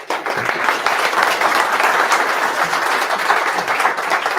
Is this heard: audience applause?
yes